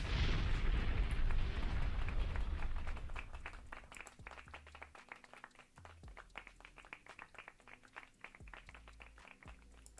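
A burst of clapping fills the first few seconds, loud and dense, then fades into sparse clicks and thumps with faint background sound.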